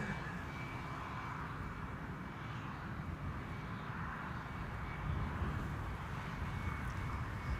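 A departing airliner climbs from the nearest runway at Amsterdam Schiphol Airport, a broad, steady jet roar that stays loud from start to finish and swells slightly toward the end.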